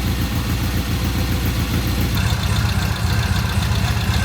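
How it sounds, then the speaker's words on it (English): A carbureted test motorcycle idling outdoors: a loud, close, steady engine rumble with an even rapid pulse, running unbroken and alone. "Beautiful idle. Beautiful idle."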